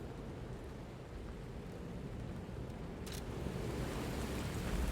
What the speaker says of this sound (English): I think there's something about this rain effect that's not particularly optimized.